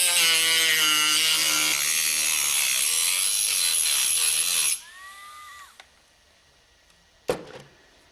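A hand saw cuts through a brass tube for a stop-motion puppet armature, giving a continuous bright, ringing rasp for several seconds before stopping, followed by quieter scraping and one sharp knock.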